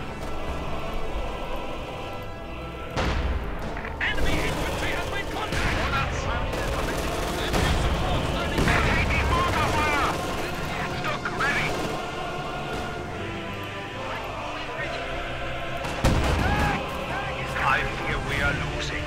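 120mm mortar fire in Company of Heroes 2 battle, with dense rattling gunfire, blasts and impacts layered throughout, while a commentator talks over the action.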